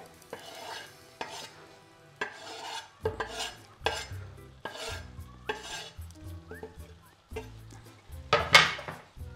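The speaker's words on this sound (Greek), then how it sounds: "Ανακατεύουμε. Βοηθάμε λίγο με μία ξύλινη κουτάλα να σπάσουμε" Corn and ginger stirred in a pan with a wooden spoon, crushing the kernels: a series of distinct scraping and knocking strokes against the pan, close and fairly loud, over a light frying sizzle.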